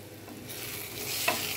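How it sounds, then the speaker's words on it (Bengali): Ginger and garlic paste fries gently in a pan, giving a quiet, soft sizzle under scraping stirring strokes and one brief clink near the end. "তারপর হালকা একটু ভেজে নিচ্ছি।"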